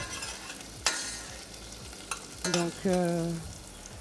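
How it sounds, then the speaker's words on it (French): Shallot and carrot sauté in olive oil for a vegan dish, giving a steady soft sizzle with a few sharp clinks and scrapes. A voice speaks briefly near the start. "on ajoute petit à petit les légumes pour les faire revenir"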